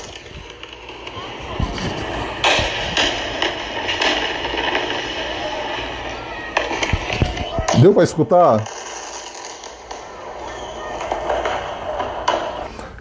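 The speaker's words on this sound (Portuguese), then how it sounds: "isso daí são fogos de artifício que vocês ouviram" Fireworks going off outdoors, heard as bursts of distant crackling and popping in clusters, with a person talking between them.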